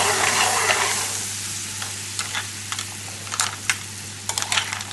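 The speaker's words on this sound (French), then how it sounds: "Vous voyez, on déglace le tout." A hot pan is deglazed with clam cooking juice for a pork tenderloin and clam dish, giving a loud hiss at first that eases into a steady sizzle, with quick scraping and tapping strokes near the end.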